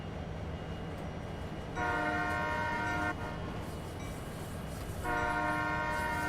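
A train horn sounds two long steady blasts over a constant rumbling engine drone, the horn fairly loud and close; an SD40 locomotive in Train Sim World 2, Sherman Hill route.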